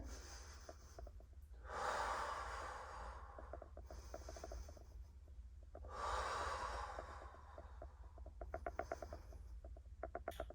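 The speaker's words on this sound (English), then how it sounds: "So breathing in." Heavy rhythmic breathing during an exercise workout, with long noisy inhales and exhales repeating every few seconds, faint and close, alongside soft clicking or creaking mechanical ticks.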